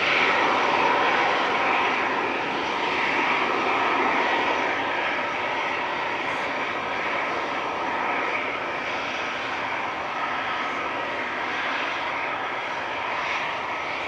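A Ryanair airliner passes at Manchester Airport, moving behind trees, its jet engines a continuous, fairly loud roar that fades only slightly over time, heard alone.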